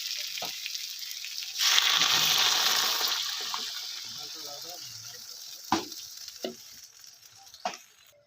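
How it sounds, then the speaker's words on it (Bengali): Water poured into a pan of frying honey tengra fish curry with new potatoes and peas: a hot sizzle flares up and then slowly fades, followed by a few scattered clinks and taps. "আমি এবার পরিমাণ মতো জল দিয়ে দেব"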